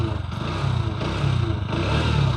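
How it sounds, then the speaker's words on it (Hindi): Bajaj Pulsar NS125 motorcycle idling just after a single-attempt start, its exhaust note a steady low, throbbing rumble with a slight rise and fall, loud and close, with no talking over it. "एग्जॉस्ट नोट सुनो NS 125 का"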